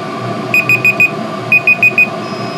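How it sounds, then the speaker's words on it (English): A timer alarm finishing a 30-minute heater test beeps in two bursts of four sharp electronic tones, loud and close over a steady background hum. "Timer's off. I mean, the timer's finished."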